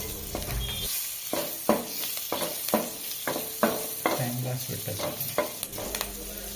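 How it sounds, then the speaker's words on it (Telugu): Green chillies fry with cloves and cinnamon in butter in a pan for a prawn curry, a close sizzle punctuated by sharp, regular scrapes of a spatula stirring the spices. "ఇప్పుడు కట్ చేసి పెట్టుకున్న పచ్చిమిరపకాయలు కూడా వేసుకొని కాసేపు వేయించుకుందాము."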